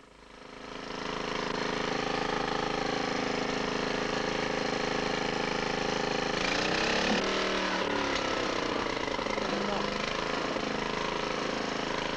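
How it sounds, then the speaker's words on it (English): Bulldozers clearing scrub and stumps on terraced village land in the dry season, a loud continuous diesel engine drone with shifting grinding tones midway. "Early in the dry season, the bulldozers come and clear the scrub and stumps on the land owned by the villagers."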